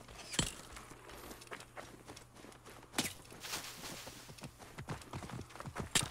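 Hooves of a horse clip-clop through a town in Assassin's Creed Origins, an uneven run of sharp knocks with a few louder strikes, set against faint game ambience.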